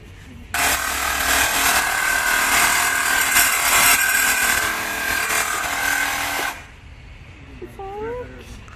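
A power cutting tool, likely a grinder, slices through the rear exhaust resonator pipe of a Dodge Challenger SXT V6 with a loud, steady, bright whine for about six seconds, then stops abruptly, with a voice heard faintly around it.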